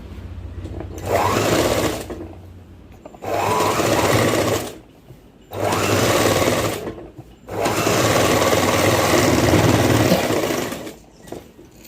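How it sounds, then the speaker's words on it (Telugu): Sewing machine stitching a fold on a cotton gown for a newborn baby girl, running in four loud close bursts separated by short pauses, with a steady mechanical whir throughout each run. "పైనుంచి అయితే ఒక కుట్టు అయితే వేసేసేయండి"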